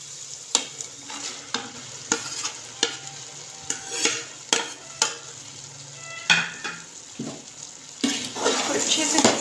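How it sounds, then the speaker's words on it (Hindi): Potatoes with moongre being stirred in a frying pan, a series of sharp scraping spoon strokes over a soft sizzle, with the frying hiss swelling louder at the end. "अच्छे से मिक्स करके 2 से 3 मिनट में मज़ीद फ्राई करूँगी"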